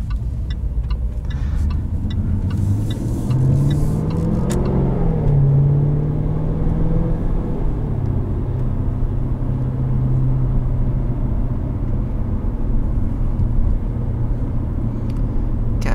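A 2020 Jaguar F-Type R engine while driving, a loud, close, deep rumble that rises and falls as it revs through gears, then settles into a steady cruising drone, with no talk.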